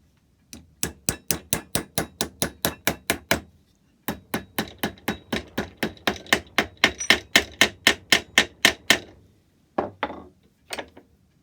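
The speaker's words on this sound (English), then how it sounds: "Needs a bit filing up so the key goes in, and then I'll fold the end over." Metal hammering as the end of a clock lock cover plate is folded over, a long run of sharp, evenly spaced blows, loud and close, pausing briefly partway and trailing off into a few scattered strikes.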